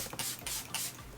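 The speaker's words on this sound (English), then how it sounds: "I'm gonna spray my face" Dragon fruit peach setting spray misted onto a face, three short close hissing spritzes in quick succession.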